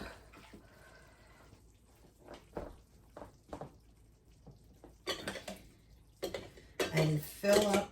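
A metal straining scoop clinks and scrapes against a pot and glass jars while taco meat is ladled in for canning, with soft stirring and liquid sloshing close by and a few sharper clatters toward the end.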